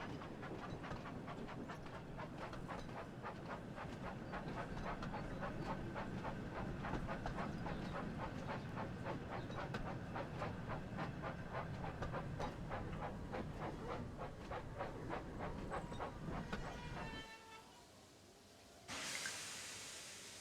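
A steam train in the Thomas & Friends: Wonders of Sodor video game runs with a steady rhythmic chuff and clatter for about seventeen seconds, then falls quiet before a burst of hiss at the end.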